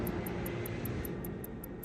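A continuous, loud, broadband roar of a plane at Heathrow Airport, steady throughout with a faint regular high ticking over it.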